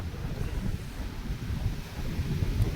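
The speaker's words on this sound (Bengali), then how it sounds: "হাওয়া ঝড়" Stormy wind blows steadily outdoors with rumbling low gusts buffeting the microphone, a continuous rough roar with no voices.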